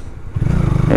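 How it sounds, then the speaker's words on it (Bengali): Modified Honda Hornet motorcycle exhaust throbs with a quick, pulsing beat while riding, rising louder toward the end of a short burst. "আর এক্সস্টের সাউন্ডটা দারুণ লাগতেছে,"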